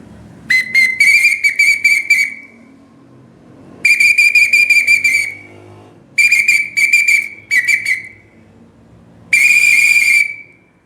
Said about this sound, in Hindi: ये इसको थोड़ा बजाओ, सीटी को बजाओ